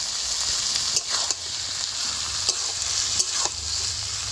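A steady sizzle and simmer of prawns cooking with bottle gourd and potato in a pan, with occasional soft clinks and stirring sounds close by.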